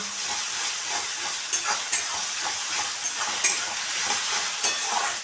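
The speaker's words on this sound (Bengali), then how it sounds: "সামান্য একটু আদা বাটা দিলাম দিয়ে এটা আমি আদা রসুনের গন্ধটা যাতে না বেরোয় সেই জন্য আমি একটু কষিয়ে নিচ্ছি" Ginger paste sautéing in a pan gives a steady, hissing sizzle with soft scraping stirs and a few brief louder pops scattered throughout.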